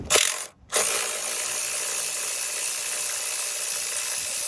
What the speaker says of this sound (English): I went ahead and decided to use the deep socket just because I can get a little bit of a reach